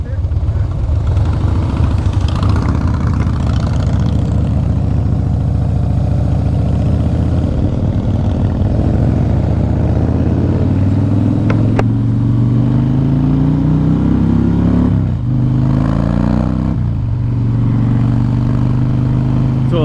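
Harley-Davidson Breakout FXSB motorcycle from 2014 rumbling steadily on a test ride, its engine note rising and falling with throttle, loud and close throughout, with a rider talking over it.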